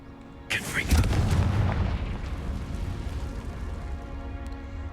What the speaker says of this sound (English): You whisper Confringo, but yet it has a massive explosion when it goes off.